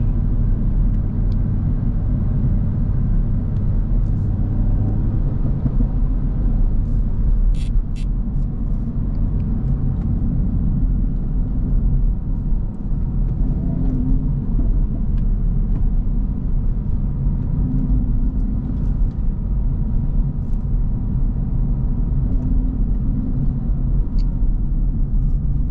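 Steady, low road rumble and engine drone inside a 2025 Acura Integra Type S while it is driven, continuous and even throughout with no voices.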